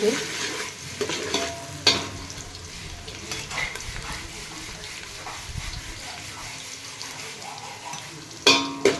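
Onion sautéing in oil in a pan for egg biryani: a steady, close sizzle with a spatula stirring and scraping, plus a few sharp clinks against the pan near the start and the end.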